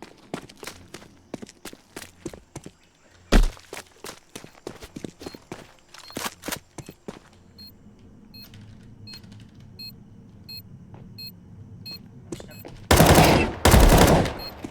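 Gunfire in Counter-Strike 2 during a bomb defuse round: a rapid series of sharp shots, then scattered footsteps and quieter game sounds, ending in two loud bursts of fire.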